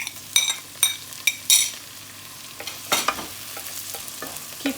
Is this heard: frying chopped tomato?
yes